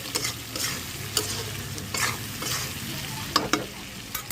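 Spices and ground coriander, cumin and turmeric being stirred in a frying pan, with a steady low sizzle and repeated sharp scrapes of the spoon at irregular intervals, close and without talk.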